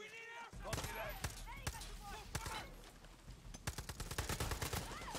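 MP40 submachine gun fire in the video game Far Cry 6: scattered shots and short bursts rattle throughout, ending in a denser rapid volley, with a voice talking over them.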